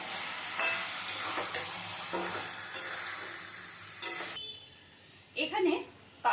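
Spoon stirring whisked sour yogurt into chicken in a frying pan, a steady sizzle with repeated scraping strokes, close and fairly loud, ending with a few sharper clinks and scrapes.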